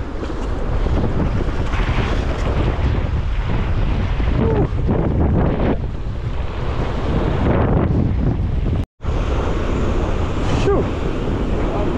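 Strong wind at sea buffets the microphone in a loud, continuous roar over rushing waves and boat noise, with a brief dropout partway through.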